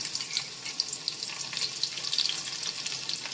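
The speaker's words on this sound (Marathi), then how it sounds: "आता हे तेल आपण तापत ठेवलं होतं, त्याच्यात या आपण बारीक चिरलेल्या मिरच्या घालणार आहोत." Finely chopped chillies hit hot oil and crackle in a bright, busy sizzle with quick popping spatters, close and continuous for a few seconds.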